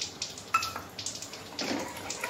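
Water poured into a cooking pan while preparing a Bengali vegetarian pointed gourd dish, a steady close splashing stream lasting a couple of seconds.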